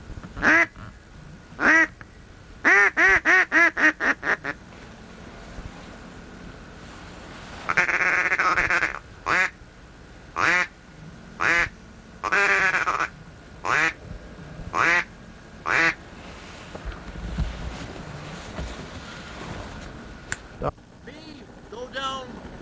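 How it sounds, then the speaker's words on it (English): Mallard ducks quack in repeated loud bursts, some in quick rapid series and others as single calls, with pauses between them. The setting is a lake during a hunt at Deer Creek, Ohio, and there is quiet background noise. "Finding big, healthy, well-fed mallards."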